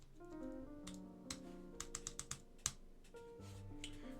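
A sticking backspace key on an Alps SKCM Black keyboard is pressed repeatedly, a quick run of about six sharp clicks followed by one louder snap, quiet and close over faint background music.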